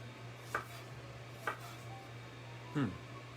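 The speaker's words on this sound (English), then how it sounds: "And we're gonna cut this up anyway because we're gonna put lime garnish on the plates." A kitchen knife cuts through a lime on a cutting board, three soft separate chops spaced about a second apart, close and quiet over a steady low hum.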